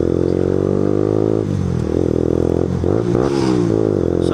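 A 2008 motorcycle fitted with a performance exhaust can idles loudly and close by with a steady throb, then gives several quick throttle blips that rise and fall in pitch.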